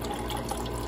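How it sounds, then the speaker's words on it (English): Water running from the dispenser of a Whirlpool refrigerator, a brief, quiet, steady trickling stream without talk. "Or I can push this, and the water comes out."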